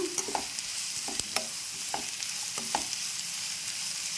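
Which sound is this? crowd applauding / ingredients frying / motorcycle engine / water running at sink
ingredients frying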